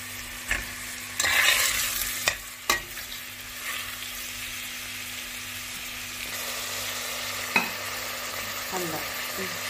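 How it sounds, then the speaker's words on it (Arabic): Meat fries with onion in a pan, a steady crackling sizzle underneath while a utensil scrapes and clacks against the pan in intermittent stirring strokes, close and fairly loud with no talking. "توا باش نحطو مع البصل روح اللحم نتاعنا"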